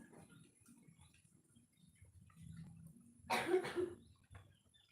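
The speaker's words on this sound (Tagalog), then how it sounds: "Sorry naman, inuubo talaga ako." A short burst of two quick coughs stands out over quiet background shuffling and faint noises.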